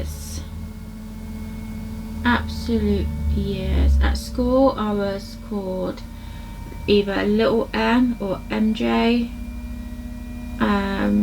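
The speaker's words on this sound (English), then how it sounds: "I apologise if you can hear like a weird humming type sound in the background. I do have my washing machine on" A washing machine running in another room gives a low, steady hum that sits under a woman's close, continuous talking for the whole stretch.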